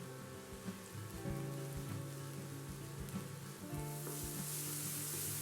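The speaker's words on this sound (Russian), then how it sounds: "Обжариваем их на растительном масле до испарения жидкости." Diced mushrooms fry in vegetable oil in a pan, a dense, steady sizzle and crackle that holds at a constant level, close up, with a low hum underneath and no voices.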